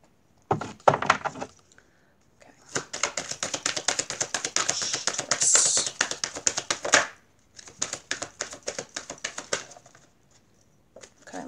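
Rapid riffling card shuffles in several bursts, crisp flapping clicks with brief pauses between, close and fairly loud.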